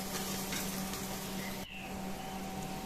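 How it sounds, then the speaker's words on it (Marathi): Spices and Kitchen King masala sautéing in hot oil for a cowpea curry, a steady close sizzle and frying hiss that briefly drops midway, as if stirred, then continues. "सर्व मसाला घातल्यानंतर आपण तेलामध्ये परतून घेऊ व्यवस्थित"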